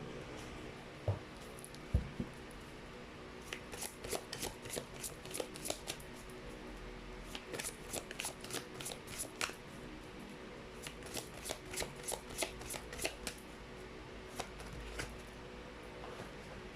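Fortune cards are shuffled again and again in quick riffling bursts with short pauses between them, close and fairly quiet, with a thump or two near the start and no speech.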